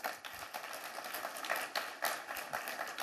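Shareholders at an annual general meeting clap to approve a motion, a soft, fairly distant patter of scattered hands in a large hall, swelling and thinning in uneven waves.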